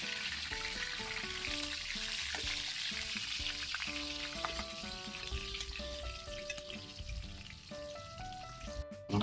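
Mussels fry in a pan as sinigang is prepared, a loud continuous sizzle and crackle with scattered pops, alone with no voices.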